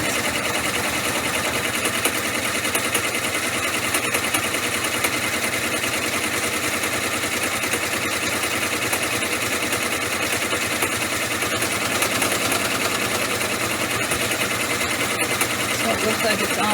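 An embroidery machine sews a bean stitch, also called a triple stitch, with a rapid, steady needle chatter that hums on without a break at a constant level.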